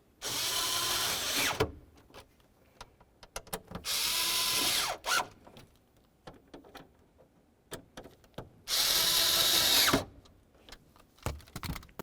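A power drill snugs up the blower motor screws on a 2000-2005 Buick LeSabre in three separate whirring bursts, each lasting over a second, with small clicks and handling noises in the quiet gaps between.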